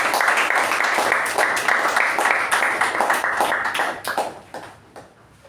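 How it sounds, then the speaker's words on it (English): Toastmasters meeting audience welcoming the Toastmaster of the day with a lively round of applause that stays full for about four seconds, then tapers off to silence. "With a huge round of applause, please welcome the Toastmaster of the day,"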